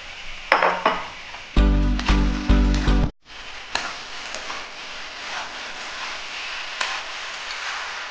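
Fried soybean chunks tipped into a pan of fried potatoes, with clattering, scraping stirs and metallic utensil knocks against the pan, then a low sizzle continuing after a brief pause.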